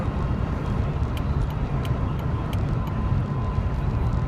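Jeep rolling along the road, heard from inside the cabin as a steady low engine and tyre rumble with a hollow, droning road roar and no talking.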